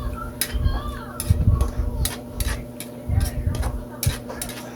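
Ground meat with soy sauce stirred in a pan: repeated scraping and clinking strokes of a spatula in a steady rhythm, close and fairly loud over a low sizzle.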